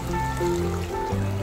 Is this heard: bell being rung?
no